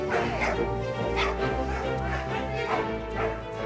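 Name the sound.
pack of dogs barking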